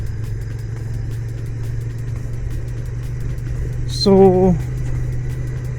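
A Royal Enfield 650 Super Meteor sports cruiser motorcycle idles with a steady, even low rumble throughout, and a brief voice cuts in near the end.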